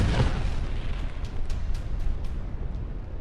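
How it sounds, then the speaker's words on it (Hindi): A heavy explosion from the bombing of the Holy Family Catholic Church in Deir al-Balah, Gaza, booms loudly at the start and trails into a long rumbling roar with faint crackles. "कैथोलिक चर्च पर हुए इस धमाके ने पूरी दुनिया को हिला दिया"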